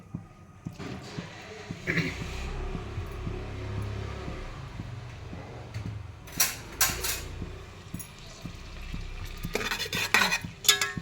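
Onions sizzle in a hot tempering pan while a metal spoon scrapes and clinks against the pan, with sharper clattering stirs near the end.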